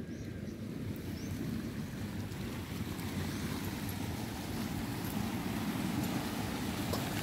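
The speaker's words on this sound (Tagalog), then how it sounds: "At ayan po ang dagat." Sea waves wash steadily over a rocky shore where mussels are farmed and fishermen work, a continuous broad surf rush mixed with wind buffeting the microphone, with no voices.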